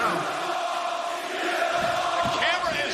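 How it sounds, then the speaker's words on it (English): A large wrestling crowd roars and cheers at the WWE Bash in Berlin arena, a sustained wash of voices with a few sharper yells rising near the end. "Crazy crowd."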